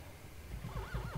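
A horse in the video game Ylands gives a clear, wavering whinny that rises and falls over about half a second, loud and close, with a low rumble beneath.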